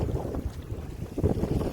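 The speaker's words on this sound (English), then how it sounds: "It's quite windy" Gusty wind buffeting the microphone in low, uneven bursts beside a loch in Scotland, loud and close, with no talking.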